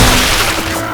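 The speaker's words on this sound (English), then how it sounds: "Quit shooting me, Nick!" A loud, brief burst of gunfire in Left 4 Dead 2, a dense crackle lasting under a second with no talk.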